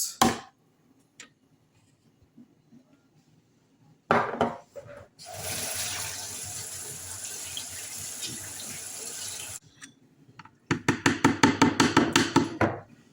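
Yogurt poured for a smoothie gives a steady, rushing, liquid pour lasting several seconds, followed by a burst of rapid clattering knocks, with quiet gaps and small taps around it.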